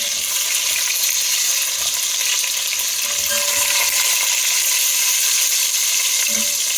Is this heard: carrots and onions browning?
yes